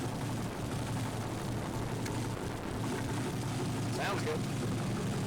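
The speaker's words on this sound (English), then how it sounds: "I don't know what that little rattly knocky noise is, but throttle response seems okay." A swapped 5.3 V8 runs in an OBS pickup with a fresh fuel system, a steady low rumble with a faint rattly knock riding over it; someone speaks briefly near the end.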